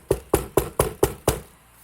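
Six sharp knocks on wood, evenly spaced and close, sounding alone with a short pause before the final knock.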